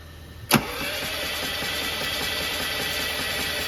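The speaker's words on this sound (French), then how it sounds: "Mets un coup de démarreur là" Austin Mini, unused for 12 years, with a brief sharp click as the starter engages, followed by a steady engine whirr that holds evenly to the end, no talk.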